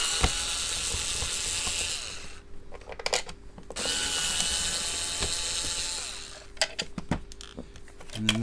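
Screws being backed out of a Hoover Turbopower Junior U1220 vacuum cleaner by a ratcheting driver, with two long stretches of steady rapid clicking broken by pauses, knocks and handling noise.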